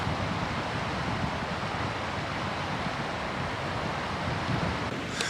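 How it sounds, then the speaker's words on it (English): A running river rushes beside a wild campsite in Glen Etive, making a steady, broad, unbroken roar with no voices over it. "I've got the sound of a running river"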